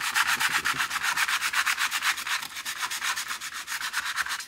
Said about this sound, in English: Have some fairly coarse sandpaper here. I'll just clean this up.